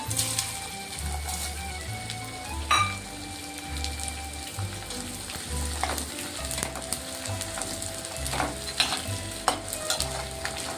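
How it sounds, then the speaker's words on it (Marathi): Edible gum (dink) fries in hot ghee for ladoos, making a dense, continuous crackling sizzle with occasional sharper pops and stirring scrapes close by. "डिंक तळतोय आपण आता"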